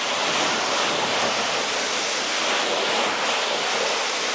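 Water from a hose rinses a dusty, hydrophobic ceramic-coated car after a Bilt Hamber Auto Wash foam-cannon wash, making a loud, steady, close hiss of spray that runs unbroken with no talking.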